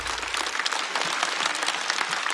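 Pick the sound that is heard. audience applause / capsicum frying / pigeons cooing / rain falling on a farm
audience applause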